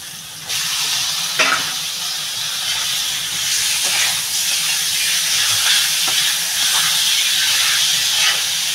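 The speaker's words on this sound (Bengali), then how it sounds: "এবার বন্ধুরা আমি এই মাংসটা দিয়ে দেবো।" Chicken meat drops into a hot pan with turmeric and sizzles, a loud steady hiss with a few clatters of stirring throughout.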